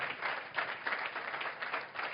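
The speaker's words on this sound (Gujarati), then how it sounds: "એને પણ એકવાર જોરદાર તાળીઓથી વધાવો." Audience applause for singers at a religious katha gathering, a steady wash of many hands clapping at moderate loudness, continuous and without talk.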